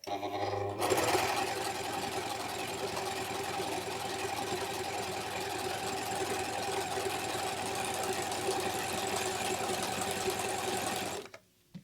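A Singer S010L overlock machine runs continuously for about ten seconds, sewing and trimming a rolled seam with a dense, rapid mechanical whir, then stops abruptly.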